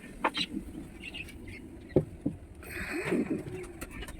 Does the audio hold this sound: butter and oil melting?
no